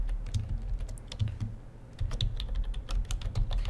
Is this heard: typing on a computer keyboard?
yes